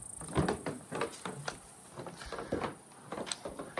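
Wooden deck boards creaking and knocking underfoot in a home's outdoor deck, a series of short irregular creaks and thumps, fairly close and moderately loud, with no talking.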